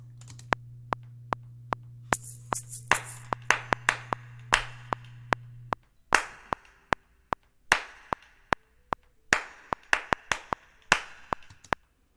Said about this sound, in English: And then of course add some claps.